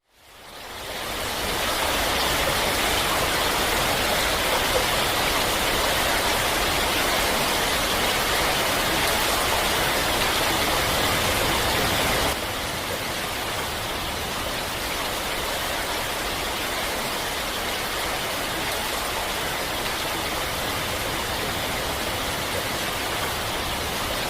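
Heavy rainstorm pouring down in southern China, a dense, continuous hiss of downpour that stays loud and unbroken throughout, with a slight drop in level midway.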